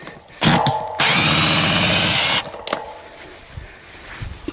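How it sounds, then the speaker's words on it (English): A power drill drives a screw into a new tin roof on a home addition, one loud sustained whine of about a second and a half. Short clicks and handling bumps come before and after it, close by. "I hate people that leave drill sounds in there"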